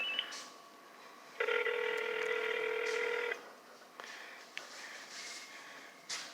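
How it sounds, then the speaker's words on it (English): A telephone rings once in a sustained, loud electronic burst of about two seconds, followed by quieter line noise and faint clicks. "Phone's ringing."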